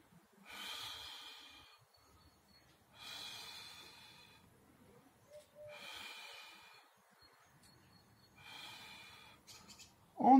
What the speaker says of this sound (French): On expire bien, on rentre le ventre